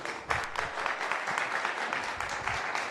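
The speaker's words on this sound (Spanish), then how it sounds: "Recibimos con un fuerte aplauso a Hernán Castellani." Audience applause welcomes a speaker on stage at a regional production event, with steady, dense clapping holding at an even level for the full stretch.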